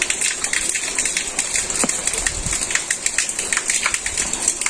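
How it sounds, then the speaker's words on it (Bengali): Light rain easing off in a Bangladeshi village, a soft, steady patter of drops with occasional sharper taps. "বৃষ্টি একটু কমছে, থামছে আর কি,"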